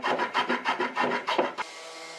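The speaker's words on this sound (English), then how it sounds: "after some planing and sanding, we have what looks like some nice chamfers on all four legs" Repeated close scraping strokes of planing and sanding chamfers on walnut bench legs, a rhythmic rasp about every quarter second that stops abruptly near the end, leaving a faint steady hum.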